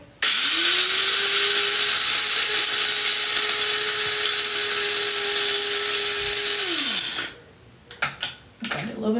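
Grinder on a new espresso machine grinding coffee beans: a loud, steady whirring drone for about seven seconds that winds down, followed by a few clatters and knocks.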